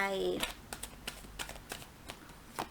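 Tarot cards riffled and flicked in a quick series of crisp snaps and slaps, several sharp taps spaced across a couple of seconds after a brief shuffle, close and moderately loud.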